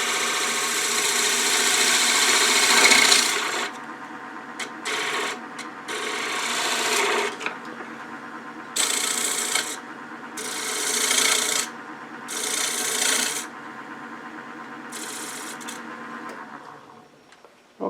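A turning tool cuts a wooden winged bowl on a lathe, rounding over the edge in repeated close, scraping passes that start and stop with short pauses between, no talking.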